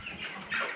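Cobb 500 broiler chickens cluck briefly during weighing, a short nearby burst with a louder squawk toward the end.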